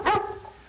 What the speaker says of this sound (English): I want big barks.